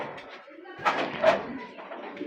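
Pigeons at a fancy pigeon farm in Narsingdi, Bangladesh, coo softly nearby in low, rolling calls, with some faint background murmur.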